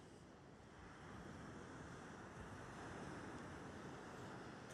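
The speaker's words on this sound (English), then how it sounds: "The sea's just there." Sea surf breaking steadily on Walcott Beach during a daylight fishing session, a continuous loud rushing wash with wind buffeting the microphone throughout and no voices.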